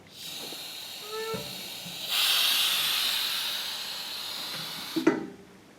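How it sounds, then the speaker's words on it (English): Gas hisses steadily for about three seconds as the outlet valve of a PLEXOR inspection system is opened, preceded by faint metallic clicks and ending with a sharp knock, close and moderately loud. "Opening the outlet valve."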